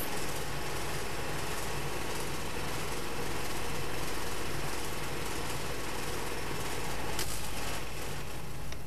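An air compressor runs steadily while it fills a high pressure carbon fiber tank, making a continuous dense mechanical hum and hiss at a fairly even, moderate level with no break.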